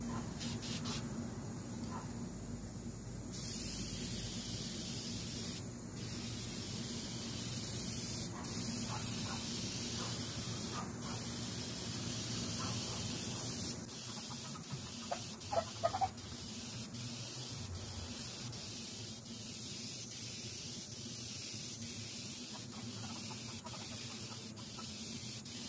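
Spray cans lay a light first coat of paint on a car hood outdoors, making a long, continuous close hiss with a few brief breaks and clicks.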